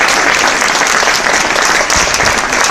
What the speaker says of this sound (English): So how about we give a round of applause to the audience?